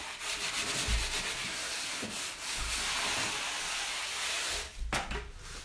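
Sanding an MDF wooden border piece by hand, giving a continuous broad abrasive rasp in long, steady strokes with brief pauses, loud and close, without speech.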